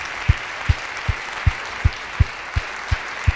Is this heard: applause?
yes